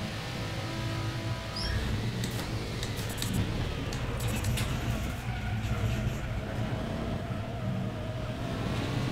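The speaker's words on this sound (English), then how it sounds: "Bounce off the rev limiter there." A GT4 race car engine in the RaceRoom racing game drones steadily at high revs, holding a dense, continuous roar with brief stuttering pulses as it bounces off the rev limiter.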